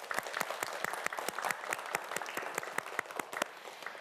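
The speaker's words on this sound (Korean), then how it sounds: "마지막으로 박수 한번 보내주도록 하겠습니다" Audience applause at a televised quiz show for a departing contestant, a steady run of sharp, closely spaced claps sustained for several seconds, moderately distant and unaccompanied by talk.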